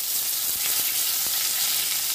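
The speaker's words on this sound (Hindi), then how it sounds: "हल्की फ्लेम में फ्राई करना है" Paneer paturi frying in a kadai over a low flame, giving a steady, close, continuous sizzle with faint crackles and no talking.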